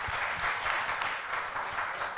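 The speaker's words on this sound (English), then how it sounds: "I think that deserves a big round of applause from the audience." Audience applause fills the hall at a wealth-planning talk, a steady dense wash of many hands clapping at even loudness for the whole stretch, with no voices over it.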